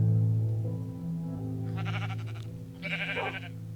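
Vanilla sheep in a modded block-building game bleat twice in quick succession over a steady low drone, the calls close and clear with no talk.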